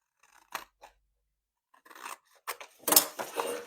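Scissors snip through sewing pattern paper while tracing a pattern from an existing hoodie, a few short dry cuts at first, then denser close crunching strokes toward the end, with no talking.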